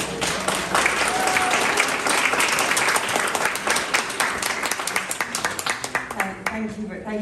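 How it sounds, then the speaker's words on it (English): An audience applauds a community radio panel, a dense and sustained burst of clapping that stays loud and then thins into scattered claps toward the end. "Please give a big round of applause to your panel."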